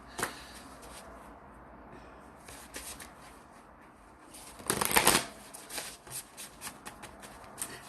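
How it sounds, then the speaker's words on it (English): Two very large decks of cards being shuffled by hand during a live session, with soft riffling and a loud, close cascade of cards midway, then lighter handling; no talk. "It's really hard to shuffle these two decks."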